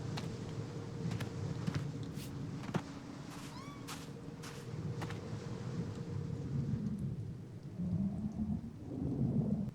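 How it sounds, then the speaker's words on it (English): Rain falls steadily over rumbling thunder in the video game Minute of Islands, with a few sharp crackling strikes and rolling low booms against a constant wet hiss. "So it's rainy now, and it wasn't rainy last time I was here."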